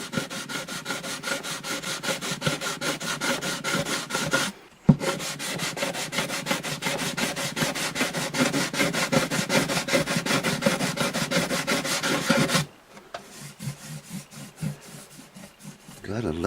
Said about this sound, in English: I want to go with a finer sandpaper and dress that up a little bit.